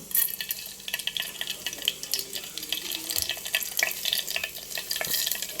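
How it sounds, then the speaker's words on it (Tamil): Mustard and fenugreek seeds crackle and sizzle in hot oil nearby, a steady dense spatter of tiny pops with no voices. "இப்போ தேவையான அளவு எண்ணெய் ஊற்றிக்கிட்டு கடுகு வெந்தயம் மட்டும் போட்டுக்கலாம்"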